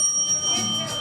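A game bell or timer rings with a steady bright metallic tone through the whole short moment, loud and close.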